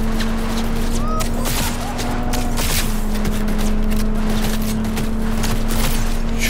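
Rapid, irregular bursts of an electromagnetic gun firing in Cyberpunk 2077 crackle over a steady electronic hum, loud and continuous throughout.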